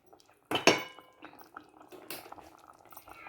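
A lid goes onto a cooking pot for a chicken dish with a sharp metallic clatter, followed by quieter clinks and faint bubbling of liquid in a quiet kitchen.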